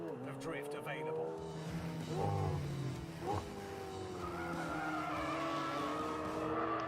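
A McLaren race car in a racing video game drifts with repeated tire squeals and skidding over engine noise, while a person talks over the game sounds.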